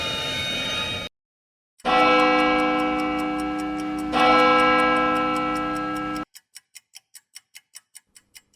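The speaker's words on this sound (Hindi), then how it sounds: "ये घड़ी तो बंद थी, अचानक चालू कैसे हुई?" A wall clock in a dark old house ticks sharply and evenly, the ticks alone after long sustained droning tones cut off into silence.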